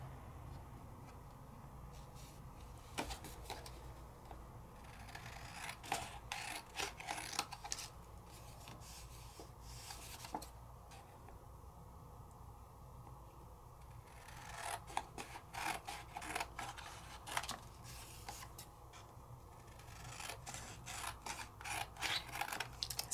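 Paper card being cut with scissors during a die-cutting craft session, a series of soft, close snipping and rustling strokes that come in bursts with pauses between them, with no talking.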